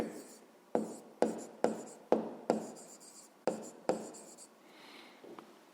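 Handwriting math on paper, a run of about ten distinct pen strokes, each a sharp start fading into a scratchy drag, close and clear with a quiet voice in the background.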